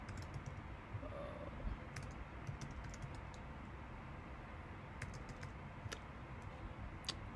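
Soft, scattered keystrokes tap on a computer keyboard at an uneven pace, faint and close, over a steady low hum.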